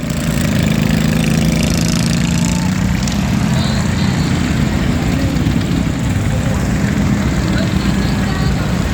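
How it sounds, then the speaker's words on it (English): Race cars roar around the track at a 30-minute endurance race at Prosperity Motorplex in Castle Hayne, NC, a loud continuous engine drone with broad noise and low rumble that stays steady throughout. "Here comes Bucket Boy, making another pass"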